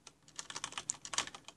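Rapid typing on a computer keyboard while entering code, a quick irregular run of close, crisp key clicks with no voices.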